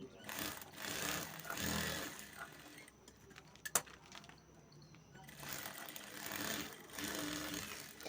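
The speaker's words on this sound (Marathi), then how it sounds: "आता जसे दाखवल्याप्रमाणे आडव्या उभ्या टिपा मारून घ्या तुम्ही" A sewing machine stitches a shopping bag made from blouse-piece fabric, running in steady rhythmic bursts with a quieter pause in the middle and a sharp click partway through.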